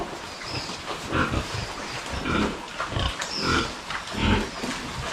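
A boar grunts repeatedly and loudly up close, a continuous string of deep, rough snorting grunts in an uneven rhythm, with no talking.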